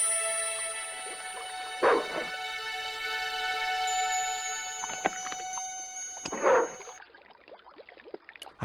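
A dog in the video game Broken Sword 2 whimpering, with two sharp yelping bursts separated by a few seconds over a steady musical drone, the cries loud and close.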